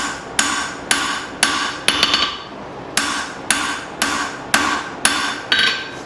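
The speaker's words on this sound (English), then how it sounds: "I'm just going to be alternating from hitting it on the edge to hitting it on the flat." A hammer strikes a blade forged from an old file, about ten sharp ringing metallic blows in a steady rhythm with brief pauses, loud and close, with no talk.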